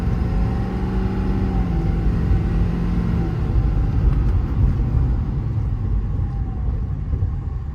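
A 2020 Ford F550 extended-cab service truck on six new tires cruising down a road, its engine a steady low rumble with continuous road and tire noise throughout.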